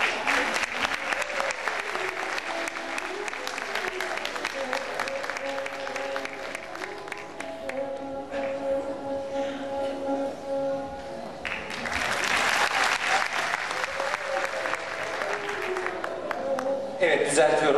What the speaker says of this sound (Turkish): Alkışlarımız